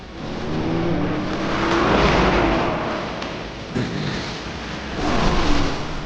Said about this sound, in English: Is the 8-6 car suddenly going on the attack?